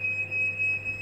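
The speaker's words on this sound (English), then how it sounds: "that's the fire alarm going" A fire alarm sounds continuously at home, a steady high electronic tone holding at moderate loudness for the full second, with a low hum beneath and no talking.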